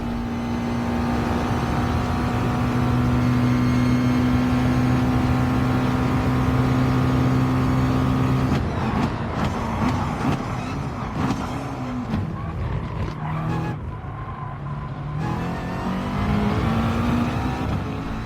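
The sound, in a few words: race cars at Monza in video game Gran Turismo Sport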